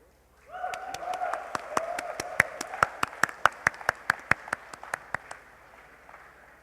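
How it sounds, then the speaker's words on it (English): Audience at a technology talk on HTML 5 claps for a demo. A few people clap in a steady, evenly spaced rhythm for about five seconds over a low room hum, with a faint tone in the background. "whenever you want to clap, please go ahead."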